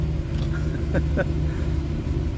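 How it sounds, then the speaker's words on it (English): Engine of a 1965 Chevrolet Impala running with a steady, deep low rumble that stays fairly constant throughout, with no clear rise in revs and no speech. "rev it up for you a little bit"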